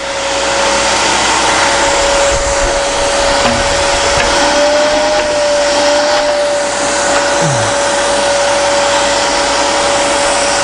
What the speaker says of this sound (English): I don't know how many of you guys got one of these dust deputies, Oneidas